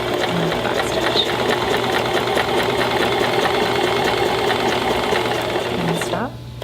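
A sewing machine stitches a zipper sack, running at a steady, continuous whir, close and loud, and stops just before the end.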